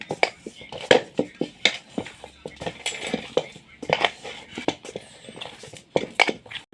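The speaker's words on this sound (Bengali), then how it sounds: "ওই পালং শাকটা দিয়েই আমি মেখে যাচ্ছি আটাটাকে" Flour dough mixed with spinach and no added water is kneaded by hand, giving a rhythmic series of soft slaps, thumps and light clatters against a vessel, close and fairly quiet, with occasional bursts of talk.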